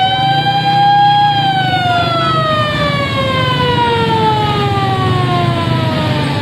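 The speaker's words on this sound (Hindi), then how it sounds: "अब ये ट्रैफिक जैम है और इस एम्बुलेंस की भी मुश्किलात हो रही हैं।" An ambulance siren wails loud and close in a traffic jam in Kohat, its long steady tone sliding slowly downward over engine and street noise, with no talking.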